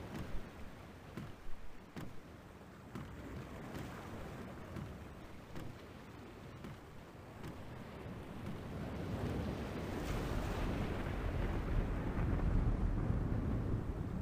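Stormy sea in The Longest Journey video game: rolling waves and gusting wind roar continuously, building louder toward the end, a broad rushing wash with no voices.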